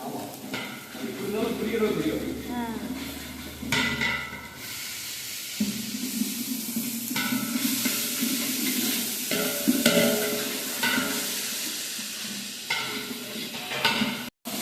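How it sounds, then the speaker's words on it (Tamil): Ginger and garlic fry in a pot for a mutton biryani while a spoon stirs them steadily, a continuous sizzle and scraping heard under people talking. "இஞ்சி பூண்டு போட்டு தூரில் பிடிக்காம கலர்றாங்க"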